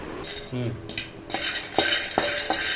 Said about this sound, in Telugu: ఇగో పల్లీలు వేగింటున్నానండి.